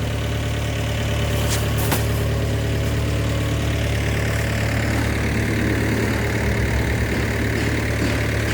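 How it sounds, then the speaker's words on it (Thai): An engine powering sandblasting equipment drones steadily and loudly, a constant mechanical rumble with a faint rhythmic knock, close by and without pause. "เครื่องต้นกำลังอยู่นู่น ใช้เครื่องยนต์นะครับ"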